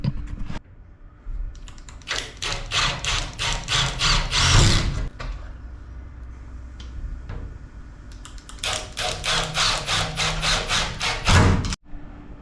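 A power drill bores holes in a school bus ceiling for a roof hatch, two bursts of rapid rattling drilling separated by a quieter pause, each ending with a sharp click, close and fairly loud.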